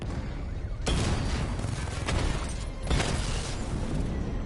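Gunfire and explosions strike a drone in Batman: Arkham Knight, two sharp booms a couple of seconds apart over a dense roar of rumbling combat noise.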